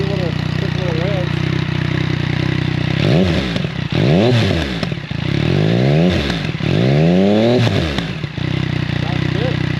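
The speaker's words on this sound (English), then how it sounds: "So if you want to give your bike a few quick little revs." A KTM SuperDuke 1290R motorcycle with its silencer removed is revved in a few quick, loud, close bursts, the engine note sweeping up and dropping back between blips over a rumbling idle.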